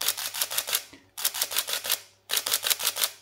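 A Sony A7 IV's mechanical shutter, refitted with a replacement shutter unit, fires in three rapid bursts of about six crisp clicks each, close and loud with brief pauses between bursts.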